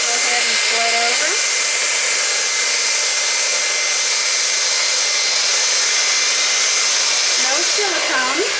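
A handheld blow dryer runs steadily and loudly from start to finish as a close, constant whoosh, with brief talking heard over it near the beginning and again at the end.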